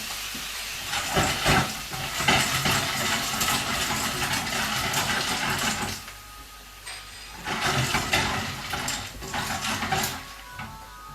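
Frozen clams steaming open in white wine in a pan, a loud hissing bubble that swells and eases in waves, with a faint clink partway through.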